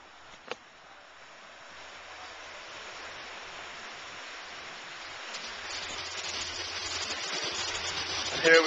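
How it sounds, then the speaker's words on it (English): A landscaped backyard waterfall tumbles over boulders in Bucks County, Pennsylvania, a steady broadband rush of water that slowly grows louder, with a brief knock near the start. "Here we have the waterfall."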